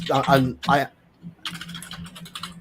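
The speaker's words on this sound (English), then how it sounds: "you got one of those noisy keyboards there, Mage?" Clattery keys of a noisy computer keyboard tapping in quick irregular bursts, heard right after a person speaks during a livestream.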